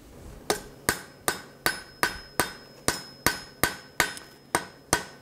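Hammer blows on a hot high speed steel punch tip being forged, about a dozen sharp ringing metallic strikes at an even, steady rhythm, loud and close with no voices.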